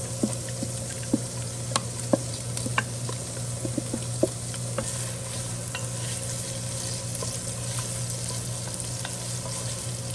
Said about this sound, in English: While the potatoes are cooking and the onions are sauteing